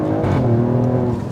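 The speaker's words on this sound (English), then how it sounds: "I can't get over that exhaust." A deep, rumbling Alfa Romeo Stelvio Quadrifoglio exhaust drones loudly up close, a throaty rev holding steady for a moment.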